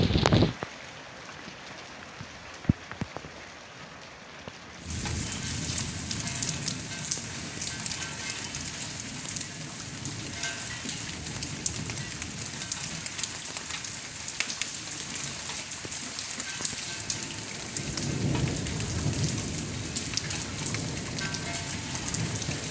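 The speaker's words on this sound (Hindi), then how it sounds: "बारिश में नहाने का बहुत ही मज़ा आ रहा है।" Steady rain pours outdoors during a thunderstorm, a dense hiss of drops on surfaces that starts abruptly after a quieter opening and continues loud and unbroken, with a brief swell near the end.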